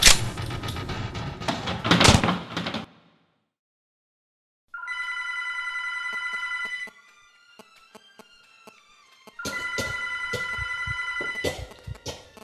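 Indoor telephone bell ringing in two long electronic bursts separated by a quiet gap, loud and close, preceded by a clattering, rattling noise.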